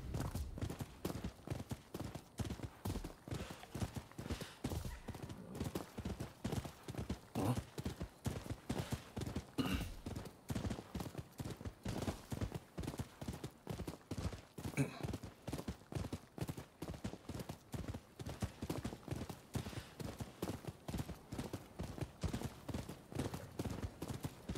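Steady clip-clop of a horse's hooves at a brisk, even rhythm in the video game Rise of the Ronin, close and continuous throughout, with a voice talking intermittently over the hoofbeats.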